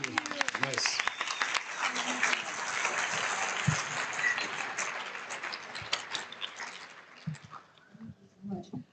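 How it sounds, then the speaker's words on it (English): Audience applause at a startup pitch event, a dense burst of clapping that builds and holds for several seconds before thinning into scattered claps near the end. "give a big round of applause again"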